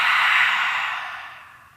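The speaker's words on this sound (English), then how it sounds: "Inhale deeply and exhale, let it go." A deep, long exhale during a fat-burning yoga workout, one breathy, airy whoosh close to the mic that starts strong and fades out over about two seconds.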